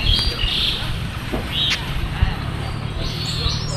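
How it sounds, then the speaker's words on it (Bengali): Many birds chirp and call outdoors from a rooftop amid lush green surroundings, a dense chorus of overlapping tweets layered over a constant low background rumble. "এই যে শুনতে পেয়েছেন অনেক পাখির কল কাকলি"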